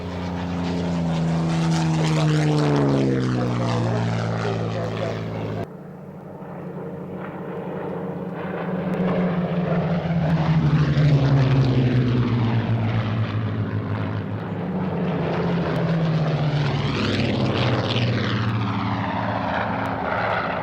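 Supermarine Spitfire propeller fighter at an RAF Waddington airshow, its engine droning loudly with repeated rising and falling Doppler sweeps as it makes several close passes, with a brief dip partway through.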